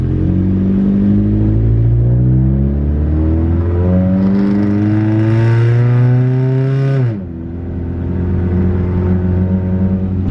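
A Honda CR-V reversing, its transmission recently filled with Honda ATF, gives off a loud, close engine drone with a climbing whine. The pitch drops sharply near the end before settling into a steady hum.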